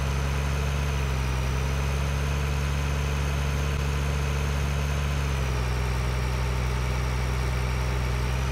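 A tractor engine idling in Farming Simulator 2013, a steady loud low rumble with an even mechanical drone that holds constant, dipping slightly in pitch partway through.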